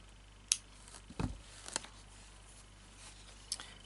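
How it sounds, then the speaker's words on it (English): Scissors snip thread during bead embroidery work: four faint, sharp cuts spaced irregularly in a quiet room, with no voices. "So I'm going to cut that off."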